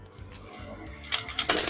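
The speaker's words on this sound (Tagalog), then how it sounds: "Tapos, hulugan natin ng barya." A coin drops into a homemade DIY water vending machine, a brief metallic clink and rattle that builds toward the end over low background rumble.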